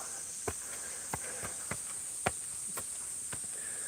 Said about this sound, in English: It's just cicadas. Here's your cicada therapy for the day.